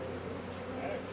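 Honey bees from an agitated colony buzz in a steady, dense drone, close and fairly faint, with no talk over it.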